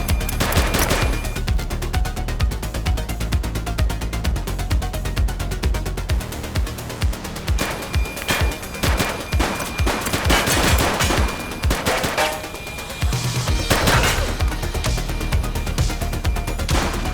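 Gunfire in The Precinct video game: sustained rapid bursts of automatic shots rattle almost continuously, with denser volleys and heavy cracks layered over a loud, steady background of game ambience.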